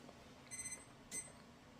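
A kitchen timer alarm goes off beside an oven roasting a cowboy ribeye steak, two short bursts of faint, high electronic beeping with a pause between, quiet and distant in an otherwise still kitchen.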